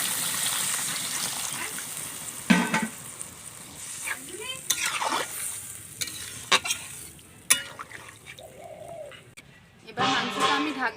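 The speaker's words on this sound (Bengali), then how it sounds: "আরও ভালো করে যাতে মাংসটা সেদ্ধ হয় আমি জল দিয়ে দেবো" Water is poured into a pot of chicken and potato curry that is simmering. A faint sizzle and bubbling carry under scattered clinks and scrapes of a spoon, with a brief louder splash near the end.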